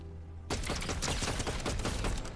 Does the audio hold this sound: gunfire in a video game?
yes